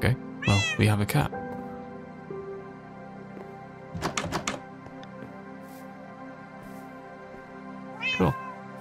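A Minecraft cat gives three bursts of meowing, a quick cluster at the start, another midway and a final one near the end, loud and close over soft game music.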